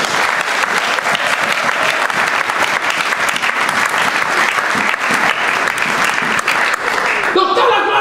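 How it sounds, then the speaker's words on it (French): A church congregation applauds the Lord during a service, steady loud clapping from a large crowd that continues throughout before thinning at the end. "Est-ce qu'on peut acclamer les Seigneurs?"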